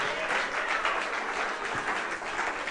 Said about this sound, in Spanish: Denle el aplauso al Cristo de la gloria.